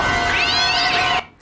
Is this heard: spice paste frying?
no